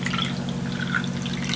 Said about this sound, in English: So now when I pour it in this cup